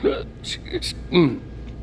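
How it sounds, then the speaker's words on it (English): A person hiccups repeatedly, short sharp voiced gulps with gasping breaths between them, close and fairly clear over quiet room noise, with no words spoken. "Excuse me, I got hiccups."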